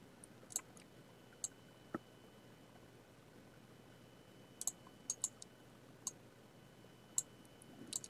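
Computer mouse clicks at a desk: a dozen or so faint, sharp, irregular clicks, some in quick pairs, over a quiet room hum.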